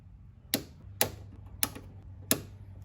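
Wires of a Mercedes ML W164 reversing camera being cut one after another, four crisp snips spaced about half a second apart, close and clear against a quiet background.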